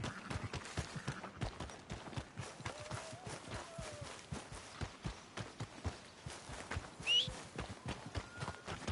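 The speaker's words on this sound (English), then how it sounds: "That horse don't listen." Horse hooves clop rapidly in Red Dead Redemption 2 as a horse runs, a steady quick rhythm of close thuds over faint background sounds, with a brief sharp cry near the end.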